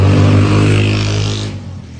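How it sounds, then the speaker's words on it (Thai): A car on a main road roars past close by, its engine noise swelling then fading away as it recedes down the road. "ขอไปเสียงรถด้วยค่ะแง่ติดถนนใหญ่"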